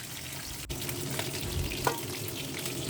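Bhetki fish muitha frying in a pan give off a steady close sizzle with a brief clatter partway through, moderately loud and continuous without any voices.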